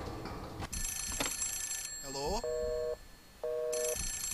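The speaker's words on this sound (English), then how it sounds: "Can I answer the phone?" A telephone rings in the prison of the video game The Suffering, a bright electronic trill in long bursts with a lower two-tone warble between them, while someone speaks briefly over it.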